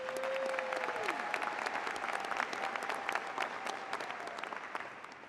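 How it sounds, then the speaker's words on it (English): A crowd applauds graduates and professors at a UNC School of Education graduation ceremony, continuous dense clapping filling the space at a steady level, with a brief tone fading early on. "give them a round of applause, please."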